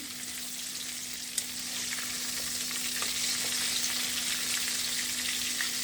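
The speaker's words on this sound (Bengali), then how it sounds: "এটা ভাজতে 15 থেকে 20 মিনিট সময় লাগবে।" KFC-style chicken pieces fry in hot oil, a steady close sizzle with scattered pops and crackles throughout, no voices.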